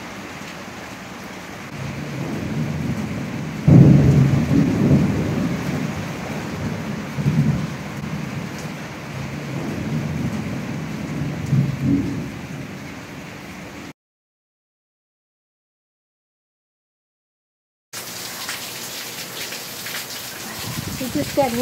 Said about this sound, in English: We're getting our first hard rain.